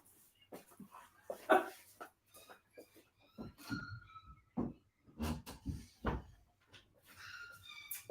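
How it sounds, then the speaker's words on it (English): Puppies whimpering and yelping in a room, scattered high whines and short cries mixed with knocks and thumps like a cupboard or door, intermittent and fairly quiet, with occasional voices. "Yeah, these puppies."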